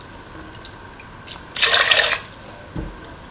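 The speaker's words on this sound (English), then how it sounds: "Now pour in 250 ml of coconut milk." About 250 ml of coconut milk is poured into a cooking pan in one brief liquid splash lasting about half a second, with a few faint drips before and a soft thud after.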